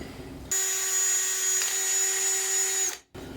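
A power drill with a small 1/8 or 1/16 inch bit bores through a bicycle fender, giving a close, steady high whine for a few seconds before cutting off abruptly.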